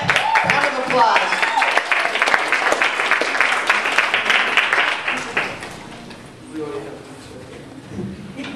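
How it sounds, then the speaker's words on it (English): A crowd claps and applauds for several seconds, then it dies away and a voice begins speaking. "Let's give them a round of applause."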